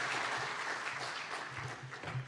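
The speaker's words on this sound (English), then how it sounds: "One more time, a round of applause" Sustained applause fills the hall at the launch of Kenya Innovation Week, a dense, steady patter of many hands clapping without pause.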